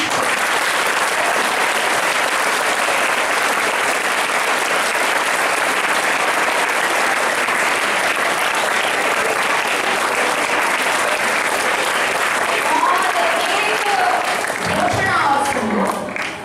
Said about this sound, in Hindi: एक बार जोर से ताली।